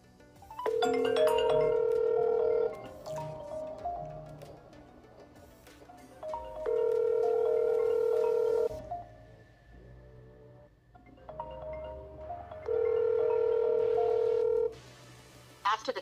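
An iPhone 15 calling its own number, with three long repeated ringback tone bursts separated by gaps, each steady and electronic, mixed with musical tones and background sounds, with no talk heard.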